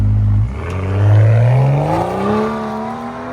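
A 2013 BMW 640i with a 3.0L inline-six, rear muffler delete and carbon fiber tips, revs up loudly and close by, its deep exhaust note rising, dipping and climbing again as a sustained throaty drone.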